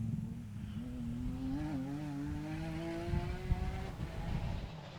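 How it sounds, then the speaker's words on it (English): Porsche GT rally car passing at a Belgian rally, its engine note rising smoothly as it nears, then fading away after it goes by, moderately distant, with no talking. "Beautiful sound of the Porsche."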